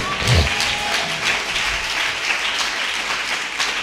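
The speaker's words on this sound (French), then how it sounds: "On peut l'applaudir puissamment" Congregation applauding during a church service, a steady wash of clapping from a crowd that holds at an even level throughout, with no voices standing out.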